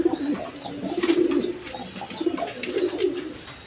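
A pair of big Lahori pigeons, a male and a female, coo in repeated low rolling phrases close by, with faint higher chirps overhead and no speech.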